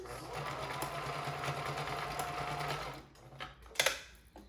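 A sewing machine stitches a fabric face mask, running steadily for about three seconds before stopping, followed by a few short clicks and handling knocks.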